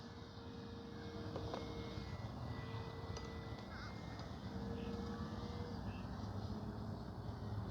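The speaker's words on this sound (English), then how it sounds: "Such a smooth flying plane." An airplane with its landing gear down drones steadily overhead at a moderate distance, a low, even engine roar persisting throughout under faint background noise.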